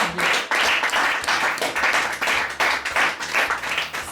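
Applause at a wedding celebration in a church gathering, a crowd clapping steadily and rhythmically in pulsing waves, close and fairly loud, with no talking.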